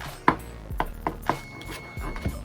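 A knife chopping green onions on a cutting board on a bias, several sharp separate strikes at an uneven pace, close and clear.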